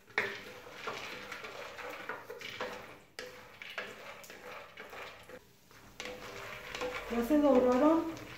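Almonds and peanuts tumble into a clay pot and are stirred with scraping, clattering strokes while making homemade mole, building to a busier, louder stir near the end; a voice speaks faintly at times.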